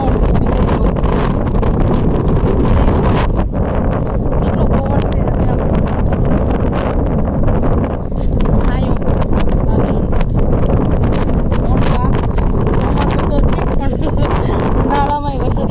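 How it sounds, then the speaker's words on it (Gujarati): Strong summer storm wind with rain roars and buffets the microphone continuously, a loud, dense rush with gusty surges throughout. "એવો પવન"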